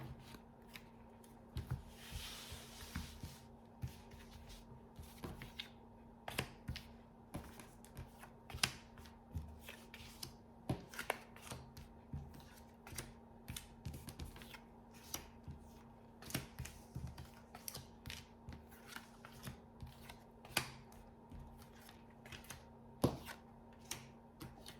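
Tarot-style playing cards are shuffled and drawn for a card reading, with a long stretch of close, soft riffling, snapping and sliding card sounds in irregular bursts over a faint steady hum.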